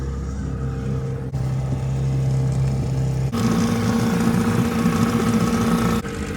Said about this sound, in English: Alright, motor's running good.